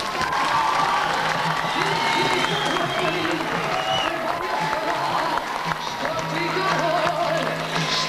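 An audience applauds warmly at a public event, sustained clapping with some cheering and a voice talking over it.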